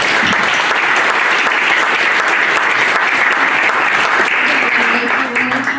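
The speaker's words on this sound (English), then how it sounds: "give the candidates a round of applause" Audience at a St. Marys city council candidate forum applauding the candidates, a loud, steady roar of clapping hands that holds evenly for several seconds before easing slightly at the end.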